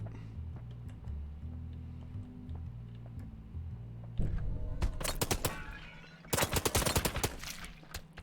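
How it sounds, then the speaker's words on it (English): Tommy gun firing in a stealth shooter game, two loud rapid bursts of automatic fire, the second a tight volley, breaking over a low droning game soundtrack. "he's got the Tommy gun"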